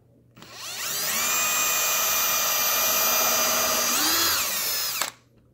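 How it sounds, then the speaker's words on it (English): A power drill whirs at high speed for about four and a half seconds, pitch dipping briefly as it pre-drills a screw hole in a couch's wooden frame, then spinning down abruptly. "So I'm gonna put two screws in here and pre-drill both holes."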